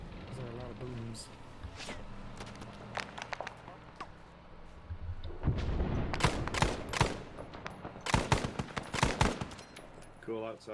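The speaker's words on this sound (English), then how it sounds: "Actually doing walking fire with a BAR." Rapid automatic gunfire from a BAR in the video game ArmA, bursts of walking fire crackling loud and close, with scattered distant booms and voices talking over the shooting.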